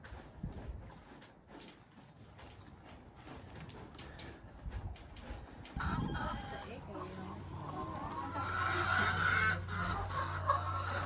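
Backyard chickens cluck and a rooster crows, mixed with scattered farmyard noise and fairly close, with people talking in a low, steady murmur under the birds.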